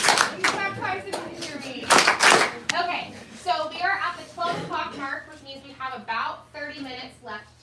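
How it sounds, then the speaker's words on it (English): Scattered hand claps from a small audience at a data center learning session, a few sharp bursts early on giving way to voices talking over the rest. "Clap twice if you can hear me."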